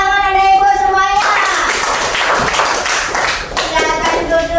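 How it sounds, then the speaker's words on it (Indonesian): A classroom of children claps together in a burst of rapid, overlapping applause that follows a short sung or chanted phrase, with young voices mixed in. "Tepuk tangan anak ibu semuanya."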